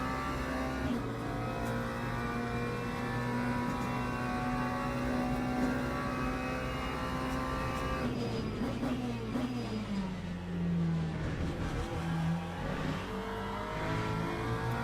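McLaren GT3 race car at Monza in the racing sim Le Mans Ultimate, its engine droning steadily throughout with a sustained tone that drops and shifts pitch as it slows and changes gear, no voices.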